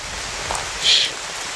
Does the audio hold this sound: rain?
yes